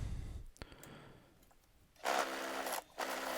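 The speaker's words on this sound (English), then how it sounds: "we are going at it with the carbide cutter, just trying to help get it to round a little bit" Wood lathe spinning a bowl blank while a circle carbide cutter rounds it, a low hum followed by two loud, rough bursts of cutting that break off briefly between them.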